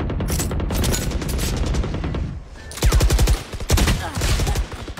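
Gunfire in the Valorant video game: rapid automatic bursts of shots, loud and continuous, with a brief lull midway before more fast strings of rounds, dense and close throughout.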